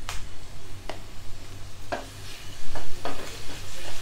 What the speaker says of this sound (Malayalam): പച്ചമണം മാറുന്നിടം വരെ ഒന്ന് നമുക്ക് ഇളക്കി കൊടുക്കാം.